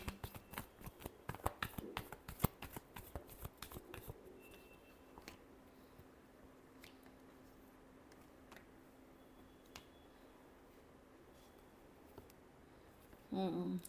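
Tarot cards being shuffled by hand, a quick burst of crisp riffling clicks in the opening seconds that fades to a quiet room tone with scattered faint ticks and a short louder rustle at the end.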